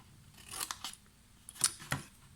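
Scissors snipping through card pieces for a handmade dinosaur gift box, several short crisp cuts in an irregular rhythm, close and fairly quiet in an otherwise still room.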